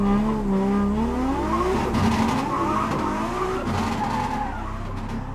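A drift car slides with tires squealing and the engine revving hard, a loud close screech and roar that wavers in pitch and then eases slightly toward the end.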